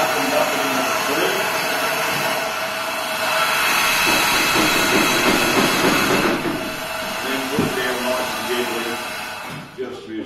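A model steam engine running on track in a garage converted into a children's train museum gives a continuous rushing, rumbling mechanical noise with faint rhythmic clatter, fairly loud and close, with possible voices mixed in.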